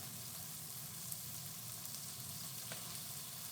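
Food cooking down in a pot gives a steady, faint sizzling hiss that holds evenly throughout, with one or two tiny pops and no voices.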